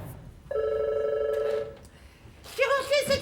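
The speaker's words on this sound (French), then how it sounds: "Le téléphone sonne, vous décrochez" A telephone rings with a sustained electronic bell tone that starts suddenly, holds for about a second and cuts off, then another ringing burst comes in near the end.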